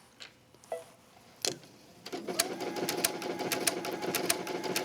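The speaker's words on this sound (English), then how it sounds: "Start stitching down." A sewing machine stitches fabric for a wrap dress after a few soft handling taps. It then settles into a steady, fast mechanical whir with rhythmic ticking.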